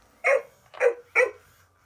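Three short, sharp barks in quick succession from a Hasbro Joy for All companion robot toy dog, fairly close, with a slightly electronic, uniform tone and quiet pauses between them.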